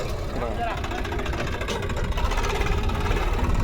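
A tractor is driven over a sown rice field to pack the soil, its steady mid-pitched engine drone running continuously beneath a person talking.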